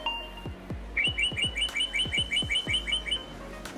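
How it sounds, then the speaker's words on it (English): Bird chirps played as a sound effect: a quick series of bright, repeated tweets in a steady rhythm, lasting about two seconds, with soft low thumps scattered through it and no talking. "A bird. A bird."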